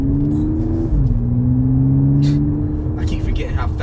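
Supercharged V6 Audi S5 all-wheel-drive coupe accelerating hard, engine note climbing then dropping at a shift and climbing again, loud and close from inside the cabin, with someone talking over it.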